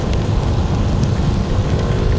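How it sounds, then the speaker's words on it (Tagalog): Rain falls on a house roof in Lake Sebu as a dense, continuous patter mixed with low, rumbling wind noise, loud and steady with no voices. "Pumapatak na naman ang ulan sa bubong ng bahay."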